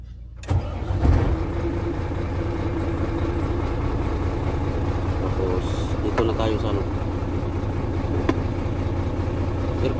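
A Sinotruk Howo 371 truck engine cranks and catches, then settles into a steady idle that rumbles on close by, with faint voices underneath.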